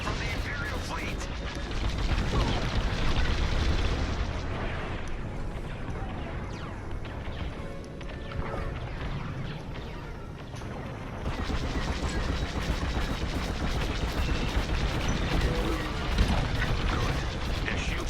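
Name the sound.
space battle explosions and gunfire in Star Wars: Squadrons video game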